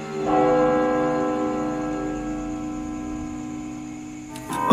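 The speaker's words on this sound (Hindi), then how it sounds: "तभी दूर चर्च की पुरानी घड़ी ने 12 बजे का घंटा बजाया" An old church clock bell tolls from a distance, its deep ringing tone sustained and slowly decaying across the clip, with a brief extra sound near the end.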